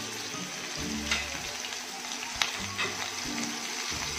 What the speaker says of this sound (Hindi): अच्छे से गर्म होने के बाद आप इसको फ्राई कर लीजिए।